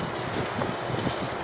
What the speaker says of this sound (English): It is very windy, as you can see around here.